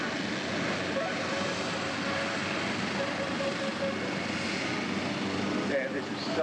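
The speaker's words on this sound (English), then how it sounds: "The piston engine is getting used." Piston-engine aircraft performing at an airshow, a steady broad drone that holds through the whole stretch at moderate distance, with crowd and wind noise mixed in.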